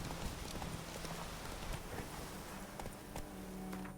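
Roach, Geralt's horse in The Witcher 3 video game, trotting with a steady, even clip-clop of hooves, fairly quiet and alone under a faint ambient background.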